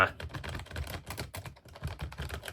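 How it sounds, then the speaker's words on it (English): Rapid, fairly quiet clacking of keys on a vintage IBM laptop keyboard, a steady run of crisp keystrokes close up with no talking. "quite a delightful sounding keyboard"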